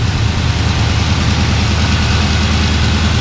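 A twin-turbo LS V8 with a freshly fitted exhaust and new heat wrap idles in a garage, a loud, close, steady low rumble with an even pulsing beat and no talking.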